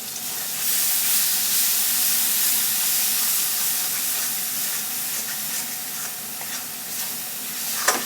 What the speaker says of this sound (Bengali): এবার এর মধ্যে আমি এই নারকেল বাটাটা এইটা দিয়ে দিচ্ছি, দিয়ে এবার এটাকে ভালো করে কষতে হবে